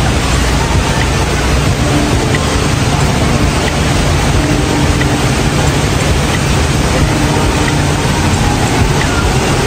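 A constant, loud hiss of heavy rain pours down without pause on a morning on Orchard Road, a dense wash of noise filling the whole stretch.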